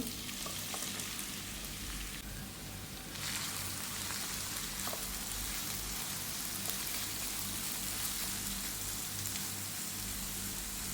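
Raw mango, ginger and garlic sizzle steadily in a hot pan, a close, even crackle with some stirring, no voices.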